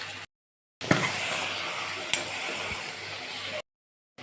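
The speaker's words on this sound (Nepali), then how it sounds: "बेसार हालेर भुट्छु पहिला।" Pieces frying with salt and turmeric in a pan, a dense, steady sizzle broken by a few stirring knocks, between short silent gaps.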